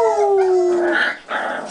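Puppies squabbling up close: a long descending howl-like whine followed by sharp yips and yelps, loud and near with no voices over it.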